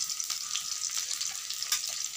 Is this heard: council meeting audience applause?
no